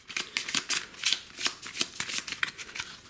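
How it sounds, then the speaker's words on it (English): Operations and ceremony cards from the Navajo Wars board game being shuffled by hand: a rapid run of crisp riffling bursts in a fairly regular rhythm, close and loud, with no talking. "You're going to give them a shuffle."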